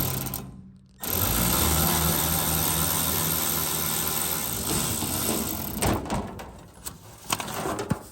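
A power tool whirs steadily for about five seconds, close up, while removing the last T30 Torx bolt from the undertray of a Lotus Elise S1. It then stops, and a few scattered clicks and clunks of the panel follow.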